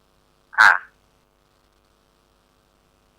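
A single short croak from a frog, loud and close, heard alone in a quiet setting, with a tiny faint chirp near the end.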